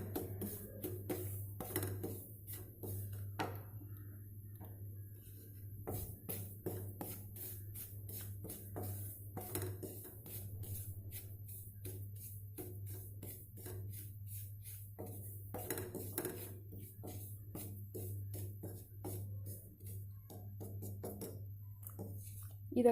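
Poongar rice dry-roasting in a kadai, a rapid run of light scraping and rustling strokes as the grains are stirred against the metal, quiet and close over a low steady hum.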